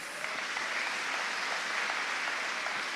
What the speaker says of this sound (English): Can we give a round of applause for Jesus?